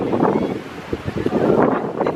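Outdoor wind buffets the microphone at a beach where people surf, a steady loud rumbling roar with gusty bursts and no clear talk.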